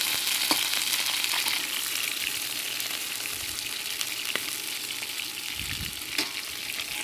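Chicken wings frying and browning in a pan for Chinese sweet bean sauce wings, giving a steady close sizzle with occasional light scrapes of stirring.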